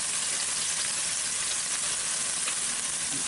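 Fish fries in a pan with a steady, bright, close sizzle and crackle, an unbroken hiss of hot oil running the whole time without any talking.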